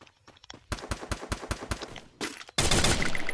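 Gunfire in the mobile shooter Free Fire, a rapid burst of sharp shots in quick succession followed by a brief pause and then a louder, denser volley, alone with no talk.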